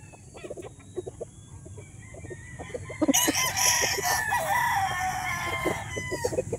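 A stag, a young gamecock at a game farm, clucks softly at first, then lets out a loud, close crow that stretches across the second half amid other poultry noise.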